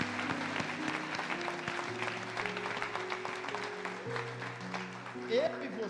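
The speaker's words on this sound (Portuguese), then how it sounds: "pode aplaudir o Senhor" A congregation at a church service claps steadily under sustained music tones, with a voice speaking over the applause throughout.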